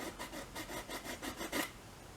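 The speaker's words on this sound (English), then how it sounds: "I have different sanding apparatus that I put in there to do certain things to get more pressure on the sandpaper to get it smooth." Sandpaper rubbed by hand over a wood carving of Celtic lace, giving about eight steady back-and-forth rasping strokes, close and soft, with one slightly harder stroke near the end.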